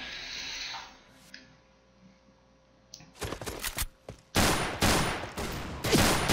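Pistol shots ring out in the PointBlank shooter game, a few sharp cracks followed by several loud bursts of rapid fire after a quieter opening.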